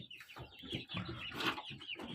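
Chicks cheep in a quick run of high, thin chirps, close by and fairly steady, with soft scratchy movement underneath.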